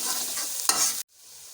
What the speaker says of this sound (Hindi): और अब हम इसको मिक्स कर लेंगे।